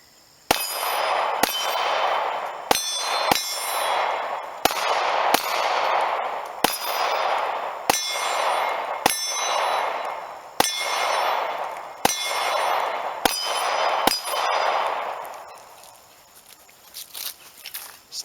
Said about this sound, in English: get them in the pistol, and we'll get to some shooting.